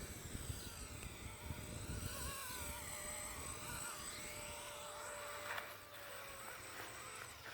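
RC AH-64 Apache helicopter, a Horizon Hobby model, lifting off outdoors in daytime, a steady high-pitched rotor and motor whine with a constant tonal hum, fairly loud and continuous throughout, easing slightly near the end.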